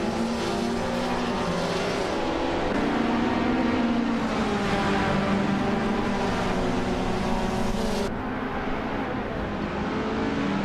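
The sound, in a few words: race cars racing in a video game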